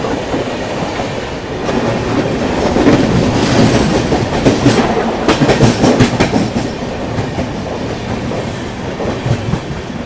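Jodhpur–Bangalore Express rushing past on an adjacent line while the Mumbai–Amritsar Paschim Express crosses it: loud, close roar of passing coaches with rapid clickety-clack of wheels over rail joints, building after the first seconds and holding steady.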